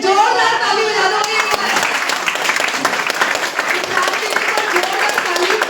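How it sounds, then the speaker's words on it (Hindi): Energetic audience applause at an International Men's Day gathering in Lajpat Nagar, dense sustained clapping from a crowd lasting several seconds with no pause. "जोरदार ताली बजा दो।"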